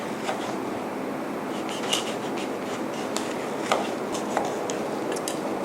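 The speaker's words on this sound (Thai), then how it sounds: "จะได้ยินเสียงก้างปลาขาดทีเดียวค่ะ" Several sharp crunchy clicks and snaps from a knife cutting through the bones of a silver barb fish on a board, irregular and close, over a steady background hum.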